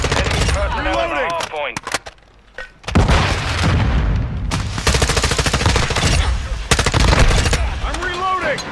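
M4 rifle fire in Call of Duty Modern Warfare 2 multiplayer: loud rapid bursts of automatic shots with a brief pause, mixed with game voices calling out.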